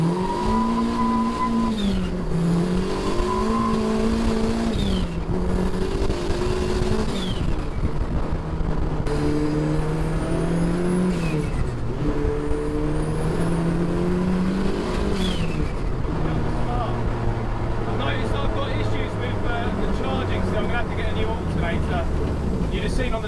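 A twin-turbo Ford Fiesta tuned to about 100 extra horsepower drives and accelerates hard, its engine note rising and falling through repeated revving pulls with some tire noise, loud and close throughout.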